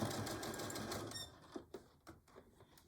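Sewing machine running back stitches on a Betty Boop pillow cover: a quick whirring needle burst that slows and breaks into a few separate clicks and taps, quiet and close, no talk.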